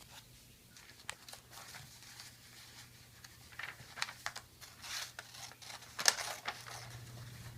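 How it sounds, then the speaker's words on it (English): Scissors snip a circle out of a sheet of paper, a series of quiet, irregular crisp cuts and paper rustles at close range, faint overall with a low steady hum beneath. "you want to cut this circle out of this piece of paper."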